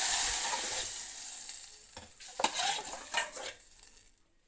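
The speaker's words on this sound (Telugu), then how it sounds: "ఇప్పుడు తాలింపు పప్పులో పోసేస్తే అయిపోతుంది." Hot tempering meets cooked dal in a brief sizzle, followed by a few metal clinks and stirring scrapes that fade toward silence.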